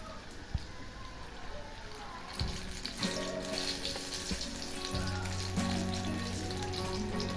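Kolhapuri green chillies fry in a pan over a low gas flame, giving a continuous soft sizzle with occasional crackles and clinks of stirring, while faint water sounds run beneath.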